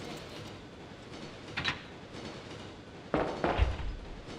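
A train from the 1998 video game Resident Evil 2 runs with a steady rumbling background, brief metallic clatters, and louder jolts and thuds near the end, heard alone without talking.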